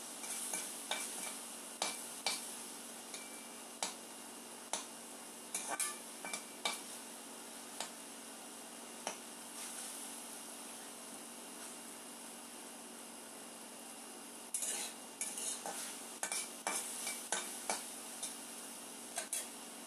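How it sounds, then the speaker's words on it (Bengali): Small-cut potatoes frying for a dheki shaak (fern) bhaja, with a steady sizzle under repeated sharp scrapes and taps of stirring, and a denser burst of stirring near the end. "সুন্দর করে আমার আলু ভাজাগুলি হয়ে যাচ্ছে, কারণ আলুগুলি তো খুব ছোট করে কেটে দিয়েছি।"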